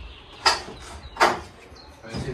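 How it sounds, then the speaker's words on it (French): A makeshift pet door that is a few years old bangs loudly twice in quick succession, then rattles faintly, heard close up with no talking. "Elle fait beaucoup trop de bruit, cette porte."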